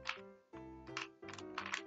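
A small 2x2 mini puzzle cube being twisted by hand gives short bursts of clicky plastic rattling, close and fairly quiet, over a steady tonal background.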